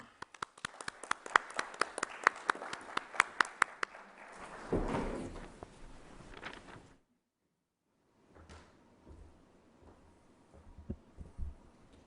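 A small conference audience claps in a brief, scattered burst of individual claps, followed by a rustle, a pause and a few quiet knocks and shuffles.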